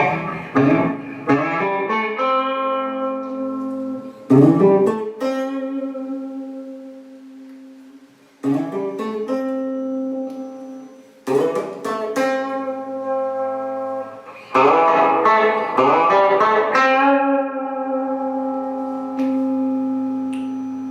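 Electric guitar chords, Gibson Les Paul or copy, strummed in separate bursts, each ringing out and sustaining before the next strum, with a clean, slightly processed tone.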